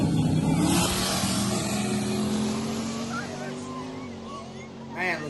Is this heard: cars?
yes